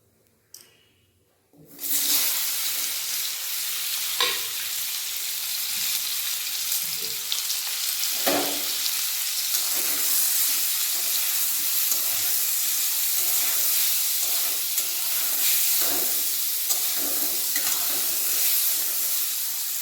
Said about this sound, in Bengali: তেল গরম হয়ে গেছে এতে দেবো হিঙ্গের গুঁড়ো আর হলুদের গুঁড়ো